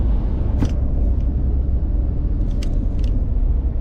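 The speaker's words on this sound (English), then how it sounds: "The sound you hear now, I don't know if it comes in on the GoPro speaker, that's from the sunroof cover." A steady low rumble of wind buffeting through an open sunroof's cover inside a moving car, constant throughout, with a few faint rattles and clicks.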